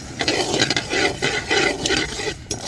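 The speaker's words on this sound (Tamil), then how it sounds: "அரிசி வறுக்க போகிறோம்" Rice is dry-roasted in a small pan. It stirs with repeated gritty scraping and rustling strokes at a steady rhythm, close and moderately loud.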